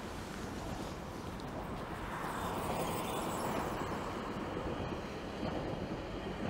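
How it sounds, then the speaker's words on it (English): A GO commuter train rumbles past steadily at close range in Toronto in winter, a continuous heavy roar of rolling wheels and rail noise throughout. "There goes the GO train."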